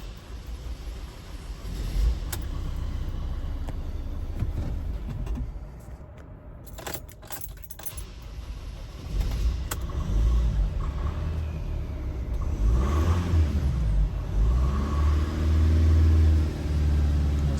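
Ford Transit Custom 2.2 TDCi diesel engine starting after an oil service and running, a steady close rumble with brief cut-outs and keys jangling, no talk.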